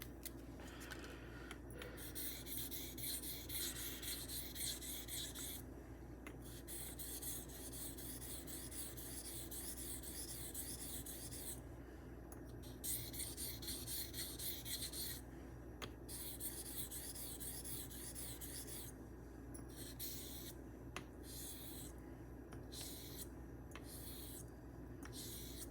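A Kampfe Bros Star Blade straight razor is honed on an abrasive stone in repeated faint, scratchy strokes that come in rhythmic bursts with short pauses between passes, over a low background hum.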